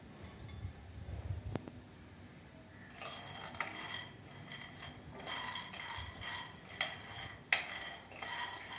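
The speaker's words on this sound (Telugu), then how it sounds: "ఫస్ట్ మనం వేరుశనగ గుళ్ళని బాణల్లో వేసుకొని వేయించుకోవాలి." Peanuts roasting and being stirred in a pan for a peanut sweet, faint scraping and clinking of a utensil against the metal pan with scattered rattles of nuts, quiet and continuous.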